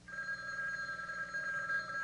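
A telephone ring sound effect in a radio drama, a tiny utility telephone ringing inside a chicken superhero's beak, plays as a continuous steady electronic ringing tone, faint and alone.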